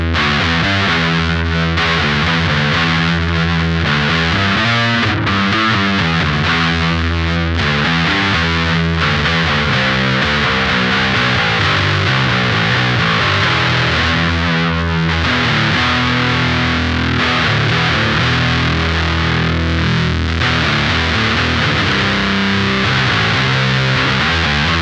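An electric guitar runs through an Electric Eye Cannibal Unicorn HM-2 style distortion pedal, churning out a thick, saturated, bass-heavy riff that stays loud and dense throughout with no voices.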